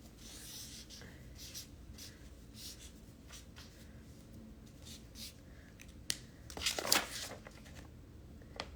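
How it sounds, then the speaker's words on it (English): Pen writing on a piece of paper, close and faint scratchy strokes in short bursts with small pauses, ending in a louder rustle of paper handling near the end. "write guilt on a piece of paper"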